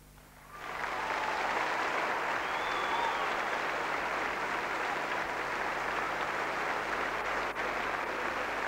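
An awards-show audience gives a sustained ovation, starting from near quiet and rising within a second into dense, steady applause that holds evenly for several seconds.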